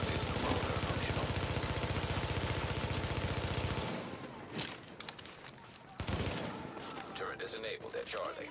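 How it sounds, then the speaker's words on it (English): Video game gunfire as hostiles attack a fortification: dense, rapid automatic fire continues loudly for several seconds, then gives way to sparser bursts and scattered shots, while a voice talks over it. "Hostiles are firing on a fortification"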